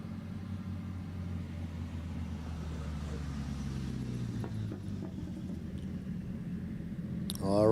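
Drift car engine at a Borneo Star Drift Series round, a four-cylinder note, rumbling low and steady throughout with a rise in loudness right at the end.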